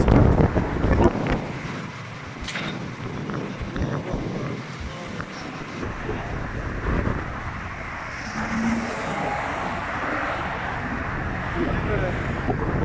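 Strong wind roars and buffets the microphone in gusts during a sudden dust storm in Mecca, Saudi Arabia, with rumbling traffic or aircraft noise underneath and occasional voices.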